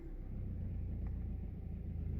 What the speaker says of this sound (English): starts the car, guys, so I'm kind of guessing it does